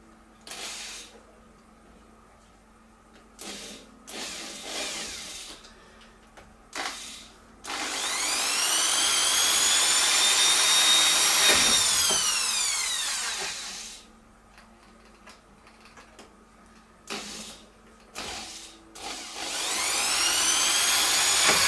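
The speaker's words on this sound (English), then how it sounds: "So I'm going to drill some holes, re-screw these in, it'll be secured then." A power drill whines in short bursts while drilling holes in a 1966 Batmobile model, then runs in long sustained stretches with rising and falling pitch, loud and close.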